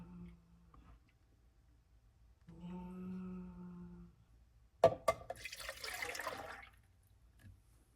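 Fairlife milk poured into a mixing container for Ninja Creami chocolate ice cream, a short liquid splash and trickle of about two seconds preceded by a clink, in a quiet kitchen.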